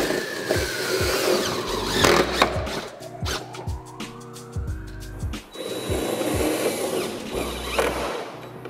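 A power drill drives 57 mm tech screws through a window-pod shelf into the steel tailgate window recess of a van, with whirring motor bursts, rising pitch sweeps and clicking knocks, fairly loud and close, with no talking.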